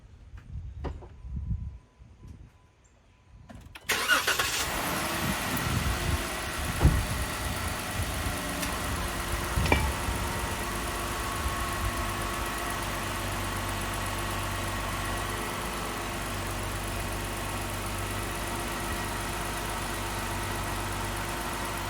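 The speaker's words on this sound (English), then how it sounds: "And let's start the truck." A Jeep JK engine cranks and starts after a quiet opening with a few handling noises, then settles into a steady, close idle that runs on evenly.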